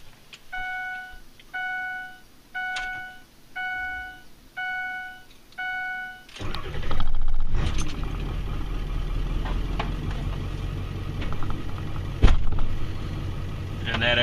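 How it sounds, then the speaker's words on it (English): A snowplow truck's engine beeps a warning tone six times, then cranks and catches, settling into a loud, rumbling idle with a brief sharp knock near the end; no voices. "I'm going to start this truck back up and let it warm up"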